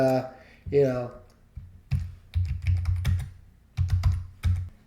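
Computer keyboard keys clatter in short bursts of quick typing at close range, with pauses between them, while someone talks at the start.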